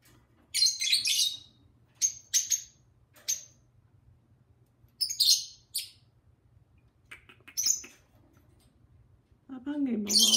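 Pet birds trade bright, high chirps and whistly squeaks in short bursts close by, with quiet pauses between calls and some rough, voice-like chatter among them.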